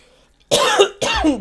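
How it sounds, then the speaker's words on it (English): Two harsh coughs come in quick succession close to the microphone, loud and abrupt after a moment of near silence. "stop coughing in the camera"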